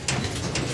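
Young racing pigeons cooing close by, a couple of short soft coos over a low background hum, brief and unaccompanied by talk.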